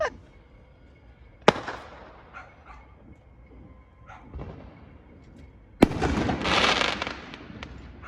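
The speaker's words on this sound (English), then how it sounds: "Our neighborhood is quite active tonight with fireworks and horns and pots and pans." Neighborhood fireworks at New Year midnight: two sharp nearby bangs followed by a crackling burst, with distant pops scattered between them and a dog barking faintly.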